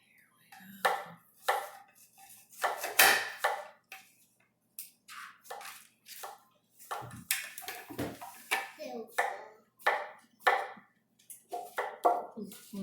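Knife slicing strawberries on a cutting board at a home party, with irregular soft chops and taps mixed among children's and adults' chatter throughout.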